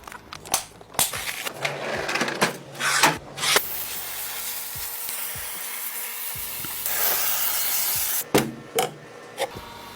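A cleaner for corners sprayed during cleaning and organizing: one long, steady hiss of several seconds, set between rubbing and handling noises close by.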